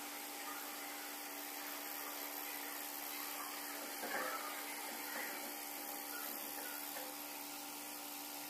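A steady, continuous mechanical hum and hiss of a rotary evaporator's vacuum pump running, unchanging and fairly quiet, with a few faint clicks partway through.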